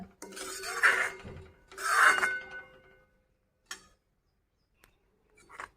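A spoon stirs mung bean curry in a pan, giving two loud, close scraping rubs in a row, followed by a few faint clicks and a brief scrape near the end.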